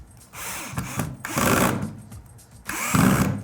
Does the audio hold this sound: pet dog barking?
no